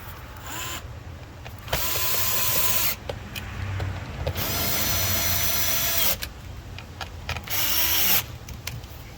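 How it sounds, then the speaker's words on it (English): Cordless power drill driving screws during apartment maintenance, with several bursts of whirring motor, each a second or two long, sounding close and loud with brief pauses between runs. "I'll run these other 2 screws in there."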